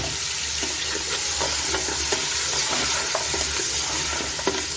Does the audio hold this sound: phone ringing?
no